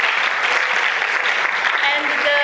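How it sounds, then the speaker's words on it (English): A sustained burst of audience applause at a public event, dense steady clapping throughout with a few voices mixed in. "I would please like you to give a round of applause to Ioana Josan back there"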